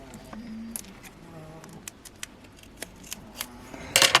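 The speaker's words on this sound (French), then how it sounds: "Comme le ruban est large, je le coupe en deux." Scissors snip through a wide ribbon for a handmade birthday card, a series of short, crisp cuts spaced irregularly, ending in a brighter burst of rustling close by, with no talk.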